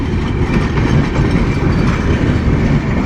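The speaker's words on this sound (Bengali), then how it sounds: "আন্তনগর ট্রেন ঢাকা কমলাপুর থেকে ছেড়ে আসা" An intercity express train out of Dhaka Kamalapur rumbles past at close range, a loud continuous clatter of wheels on rails with rhythmic clickety-clack and no voices over it.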